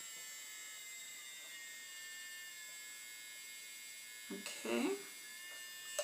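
A cheap electric nail drill runs with a constant thin high-pitched whine and buzz, close and steady throughout, with a brief spoken word near the end.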